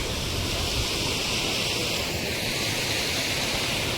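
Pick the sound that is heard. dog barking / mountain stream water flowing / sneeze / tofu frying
mountain stream water flowing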